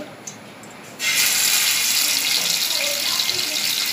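Chicken broast pieces frying in hot oil in a covered pan over low heat, a steady bright hiss that jumps to a loud, continuous sizzle after the first second and holds evenly to the end.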